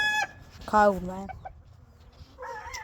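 Newly arrived hens on a Kentucky farm give a few short clucks and squawks near the microphone, mixed with a brief bit of a man's speech.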